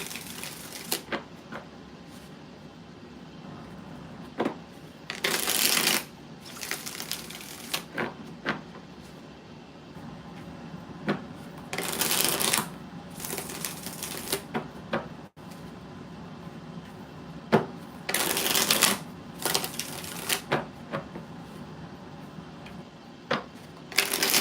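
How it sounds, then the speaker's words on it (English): Tarot cards are shuffled by hand in repeated bursts of dry, rapid riffling and sliding, close and fairly loud, separated by short pauses of quiet room sound. "We doing 3 more shuffles because I'm just thinking on it"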